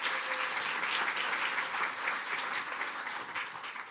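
Sustained audience applause follows a solo classical dance performance at a Jain-themed Ramayan stage show, a steady dense wash of many hands clapping that holds for several seconds and eases slightly toward the end.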